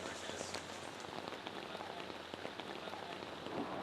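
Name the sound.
rain falling on a film set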